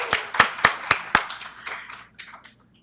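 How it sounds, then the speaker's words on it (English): A few people at a student conference forum clap after a group photo, about five sharp, spaced claps at first, then scattered, thinning claps that fade into silence, close and distinct. "And everyone give them a round of applause."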